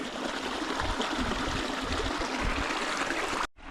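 Cold water pours steadily out of a rock outlet beside the Routeburn hiking trail, a close, loud continuous rush that cuts off abruptly at the end.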